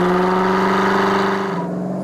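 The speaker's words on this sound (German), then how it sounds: "Dann probieren wir jetzt mal die Launch Control aus, würde ich sagen. Ne? Also volle Bremse, Vollgas bis 3000." A car engine holds at high revs, around 3000 rpm, with full throttle against the brakes for a launch-control start. The loud, steady tone drops sharply near the end as the car releases.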